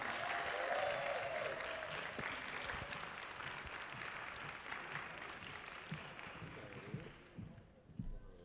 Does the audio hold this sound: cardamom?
no